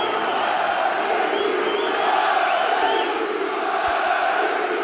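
Dense crowd noise fills an indoor boxing arena in the Northeast of England as fans await the champion's ring walk. Steady roaring and cheering carries throughout, loud and sustained, with a few whoops and shouts rising out of the mass.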